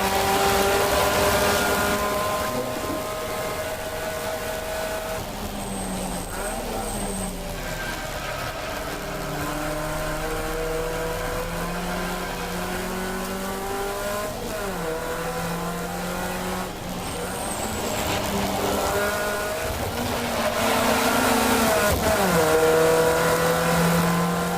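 Race cars lapping the Brands Hatch GP circuit in a Trackday Trophy race, engines roaring loud and sustained with rising and falling revs through gear changes as cars pass close by.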